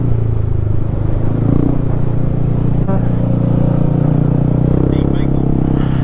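Motorcycle engine straining uphill on the mountain road to Sagada, a steady low drone throughout with a brief clatter midway, heard close and loud beneath faint background chatter.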